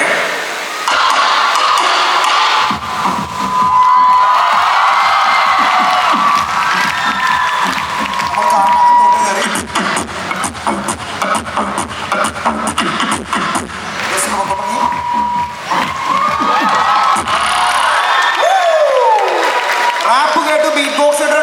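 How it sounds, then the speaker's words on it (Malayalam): A crowd at a film audio launch event in Kozhikode claps and cheers in loud bursts, with shouts and whoops rising and falling, mixed with amplified talk from the stage. "കറക്റ്റാണെങ്കിൽ മാത്രം കൈയടിച്ചാൽ മതി."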